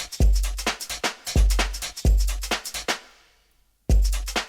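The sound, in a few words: Drum loop played alone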